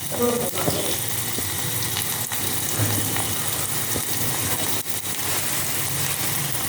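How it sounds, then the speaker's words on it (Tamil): Onions sizzle steadily in a hot pan, a dense, continuous frying hiss that stays close and fairly loud throughout, with faint kitchen clatter in the background. "இப்போ இந்த வெங்காயத்தை போடுறேன். வெங்காயம் வதங்கட்டும்."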